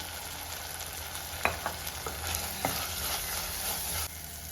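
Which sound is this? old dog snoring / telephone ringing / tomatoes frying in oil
tomatoes frying in oil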